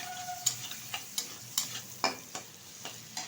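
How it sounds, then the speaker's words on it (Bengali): Shrimp fry lightly in a pan with a soft background sizzle, punctuated by a series of sharp stirring scrapes and clicks at a roughly regular pace, close and fairly quiet. "চিংড়ি মাছটা ভালোভাবে ভাজার কোনো দরকার নেই হালকাভাবেই ভাজতে হবে"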